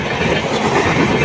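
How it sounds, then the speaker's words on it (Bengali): Superfast express train passing close by on the up line toward Bardhaman, a loud, dense rush of wheel and carriage rumble with rattling clatter, steady throughout. "এখন আপে বর্ধমানের দিকে একটি সুপারফাস্ট এক্সপ্রেস যাচ্ছে।"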